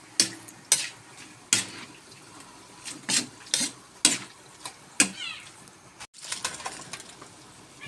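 Pancit miki noodles with cabbage being stirred in a pan: a run of sharp, intermittent scraping clacks from the utensil, moderately close, over a quiet background with no voices.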